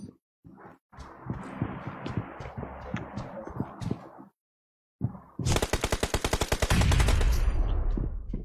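Heavy video-game gunfire crackles in rapid bursts, first scattered shots and then a dense, loud automatic stream of fire after a brief pause.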